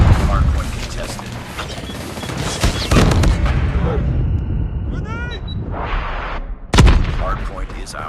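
MG42 machine gun fire in Call of Duty Mobile during a hardpoint match, loud rattling bursts mixed with booms and impacts, uneven and chaotic, with game voices mixed in.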